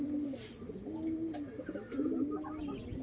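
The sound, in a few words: breeding pigeons cooing, Bronze War and TS1 breeds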